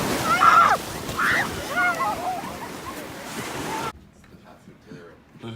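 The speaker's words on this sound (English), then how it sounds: "The ocean. It's here. Oh, God. It's big water." Ocean surf rolls onto a beach on a spring break trip, a broad rushing wash mixed with wind buffeting the microphone and a voice briefly over it, before the sound drops to a quieter, distant murmur near the end.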